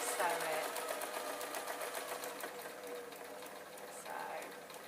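Sewing machine stitching ribbons onto a memory notice board, a steady continuous whir running under a voice talking throughout.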